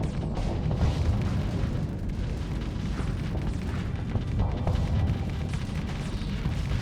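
Loud, continuous rumbling booms of torpedo explosions in the space combat game Starsector, dense overlapping blasts and low-end roar without pause.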